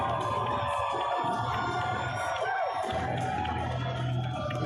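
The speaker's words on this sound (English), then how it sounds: "The crowd saluting Seth, and he returns the favor" A crowd at a minor-league baseball game cheers and applauds a home run, a steady wash of shouts and claps with whoops rising above it, heard from within the stands.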